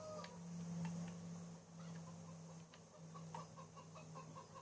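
Chickens clucking on a farm in the Farming Simulator game on PS3, soft scattered clucks over a steady low hum, fairly quiet with no talking.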